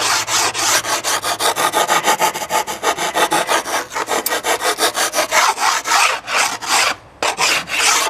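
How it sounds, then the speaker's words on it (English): A hand rasp works along the edge of a wooden oar to flatten it, with loud, steady back-and-forth scraping strokes repeating in a quick rhythm, close up, with no voices. "rasp it along until you get a nice, somewhat flat surface along this edge, and then just round it over."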